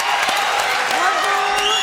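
A French TV studio audience applauds after a Gypsy-style music performance, steady clapping with some cheers running under a host speaking over it.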